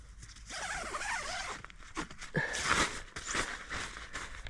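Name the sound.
zipper opening on Highlander Falcon bivvy bag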